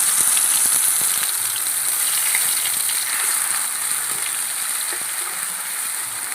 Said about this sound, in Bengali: পোস্তটা একটু তেলের মধ্যে কষিয়ে নেব